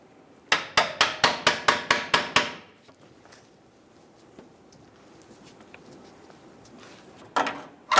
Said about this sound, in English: Using a pry bar, we're going to tap the back of the head.